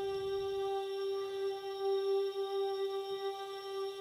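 A String Vox synth layer holds a smooth, airy, sustained chord at low volume from start to finish, with no other sounds over it.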